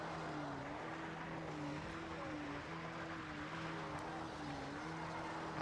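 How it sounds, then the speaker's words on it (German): Tires spinning and slipping on a car in the video game Far Cry 3, a steady droning engine whine with a wavering pitch that holds loud and unbroken throughout, with no talking. "Alter, wie die Reifen einfach durchdrehen."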